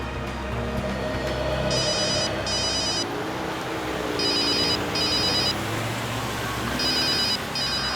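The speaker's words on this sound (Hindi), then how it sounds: "सर, आपका फोन लग रहा है।" A telephone rings in repeated pairs of electronic trills, three double bursts spaced evenly over a steady background hum, with no talking.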